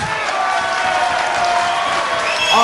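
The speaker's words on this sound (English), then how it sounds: "Ladies and gentlemen, a round of applause for both boxers." Crowd applauding both boxers after a twelve-round professional boxing bout, a steady wash of clapping and cheering filling the arena throughout, with faint voices mixed in and a brief rise near the end.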